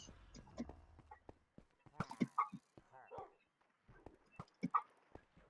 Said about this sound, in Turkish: Senin köpeğin de buradan havlıyor.